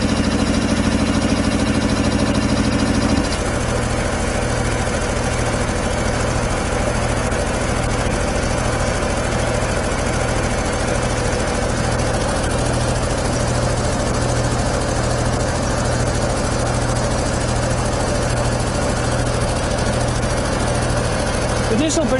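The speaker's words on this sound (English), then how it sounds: "So actually the compressor is not overstressed here at all." A 25-horsepower air compressor running on single-phase power, a steady droning mechanical hum with a rhythmic pulsing beat. A brief higher-pitched tone fades at the start and the sound carries on evenly and close.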